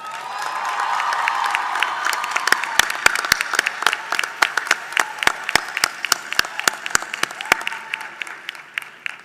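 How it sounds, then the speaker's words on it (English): Graduation crowd at a university commencement gives a sustained round of applause, dense clapping with scattered cheers and a few sharp louder claps standing out nearby, gradually thinning toward the end. "Let's give them a real round of applause."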